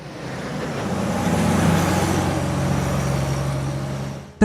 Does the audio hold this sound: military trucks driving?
yes